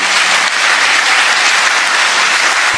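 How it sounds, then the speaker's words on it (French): Loud, dense applause from a large audience honoring Adama Bictogo, a steady wash of clapping that holds evenly throughout without a break. "Second bon applaudissement pour Adama Bictogo"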